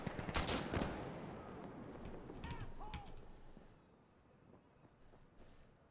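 Gunfire in the video game Insurgency: Sandstorm, with a rapid burst of shots at the start followed by a few scattered distant shots and faint game ambience, all fairly quiet.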